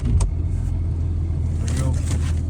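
A truck engine starts in Alaska after a night at 35 below, once it has been plugged in for a while. It runs as a loud, steady, close low rumble with no break.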